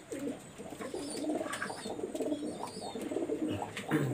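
A cream-eyed Teddy pigeon cooing in a steady stream of low, rolling calls at close range, soft but continuous, with faint brighter chirps and background clatter.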